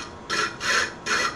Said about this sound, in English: the polishing of the final girdle facets for the famous Kohinoor replica, Victoria.